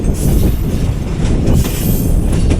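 Loud, close rumble of a locomotive accelerating on the tracks in Sindh, with rhythmic clattering and faint metallic squeals over a heavy low drone.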